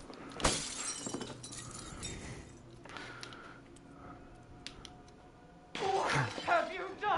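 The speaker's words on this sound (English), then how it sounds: "smashing all your windows," Glass windows shatter in Resident Evil Village played in VR, a sharp crash early on, then scattered tinkles and a second burst of breaking glass near the end, with voices talking throughout.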